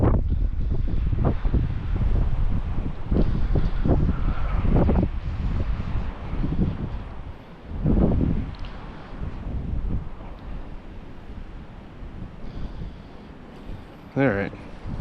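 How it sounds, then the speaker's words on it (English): Gusty wind buffets the microphone in rough bursts while a person talks, with a wash of open-air noise throughout. "The wind is like going straight through my shirt."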